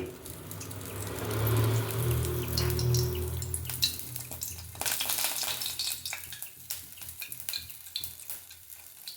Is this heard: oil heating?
yes